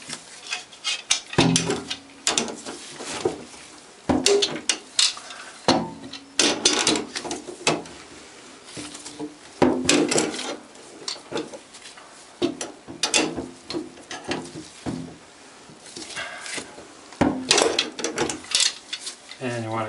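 Bathtub drain flange twisted down into plumber's putty, repeated scraping, ratcheting bursts of metal grinding in short uneven strokes, close up, with brief pauses between turns.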